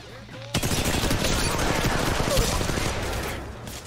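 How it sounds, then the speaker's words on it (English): Dense, sustained automatic gunfire in the mobile battle royale shooter Apex Legends Mobile, a loud, continuous rattle of rapid shots that starts abruptly and runs unbroken for several seconds. "Getting shot at."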